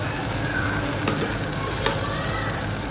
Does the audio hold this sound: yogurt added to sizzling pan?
yes